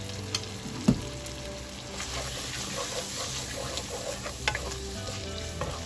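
Garlic and tomatoes frying over medium-high heat in a pan, a continuous close sizzle with occasional stirring clinks and a sharp knock near the start.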